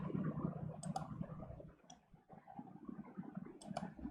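Light, irregular clicks of a computer keyboard being typed on, close and quiet over a soft background hum, with a few sharper taps standing out.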